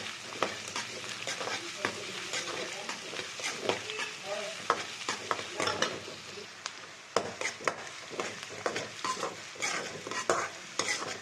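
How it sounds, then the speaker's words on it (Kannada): Chopped onions sizzle steadily in a hot pan for drumstick leaf palya, with frequent sharp scraping clicks of a spatula stirring them, close and fairly loud throughout. "ಈರುಳ್ಳಿ ಚೆನ್ನಾಗಿ ಫ್ರೈ ಆಗಬೇಕು"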